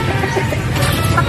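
A chicken clucks close by in a short burst of low, throaty calls.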